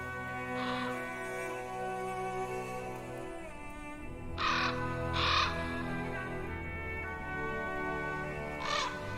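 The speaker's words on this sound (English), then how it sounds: "The birds." Crows caw in The Pillars of the Earth video game, several harsh calls in separate bursts over a soft, sustained musical background, with no voices.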